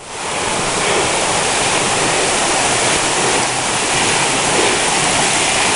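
Ledbetter Creek rushing over a trail ford on the Bartram Trail, a loud, steady broadband wash of flowing water heard up close with no talking.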